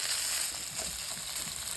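Soft, steady sizzling of a burger frying in a pan, with faint crackles and pops; no talking.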